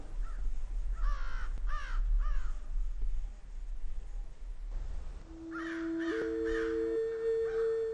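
Crows caw outdoors in a spring-into-summer setting, a series of rough, repeated calls in short bursts, then more distant caws over a faint steady tone and low background rumble.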